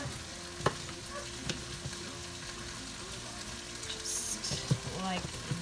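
Pepper chunks are stir-fried for a sweet and sour noodle dish, giving a steady close sizzle with scattered clanks and stirring scrapes throughout.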